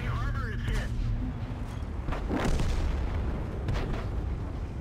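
A tank cannon fires in a World of Tanks-style battle on Erlenberg, one heavy booming shot amid steady engine rumble and game effects, with players talking over the action.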